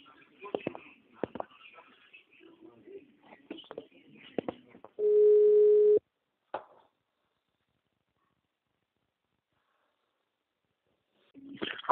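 A phone ringback tone sounds while a conference call connects, a steady electronic tone lasting about a second amid a phone conversation, with voices before it and a brief beep after.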